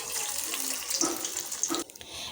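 Bean fritters (piyaju) go one by one into oil that has been heating for a while, bringing a bright, hissing sizzle that flares as each piece drops in, close and steady, then briefly dips near the end.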